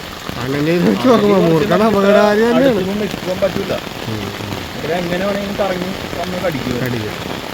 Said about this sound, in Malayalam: നല്ലൊരു മഴയുണ്ട്